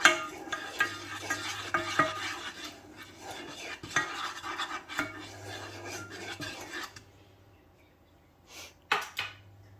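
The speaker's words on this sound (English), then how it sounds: "I'm just going to stir that just to thicken" A spoon scrapes and rasps steadily through a mushroom pasta sauce as flour is stirred in to thicken it, softer near the end and then a few brief knocks.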